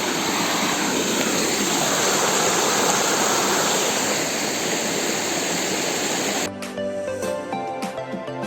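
Nalichuan waterfall in Bargarh, Odisha, a dense, steady roar of falling water close by that cuts off sharply near the end and gives way to music.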